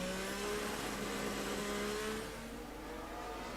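A Formula 1 car accelerates through a corner at Silverstone during British Grand Prix qualifying, its engine a steady high whine with rising tones, heard from a distance and fading slightly near the end.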